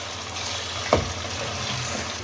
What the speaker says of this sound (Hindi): आप इसको कीमे को इसके अंदर थोड़ा सा भून लें।